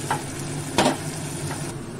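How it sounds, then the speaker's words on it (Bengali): Cumin and royal garam masala frying in a pan with salt and turmeric, a soft continuous sizzle broken by a few short stirring scrapes, close and fairly quiet, with no talking. "জিরে আর শাহি গরম মশলা দিয়ে দেব"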